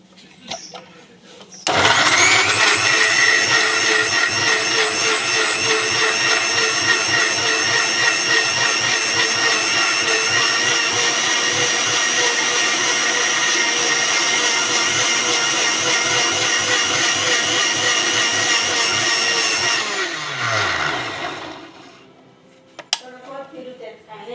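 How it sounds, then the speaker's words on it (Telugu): A kitchen mixer grinder blending banana, orange and milk into a milkshake, a loud sustained whine with a rhythmic chopping pulse for about eighteen seconds before winding down and stopping. "మనమైతే ఇప్పుడు మిక్సీ తిప్పబోతున్నాం"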